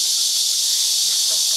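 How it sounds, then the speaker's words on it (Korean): Cicadas buzz in a continuous, loud, high-pitched drone in an outdoor forest setting during an evening concert, steady and unbroken, with no one speaking. "매미 소리 시끄럽다고"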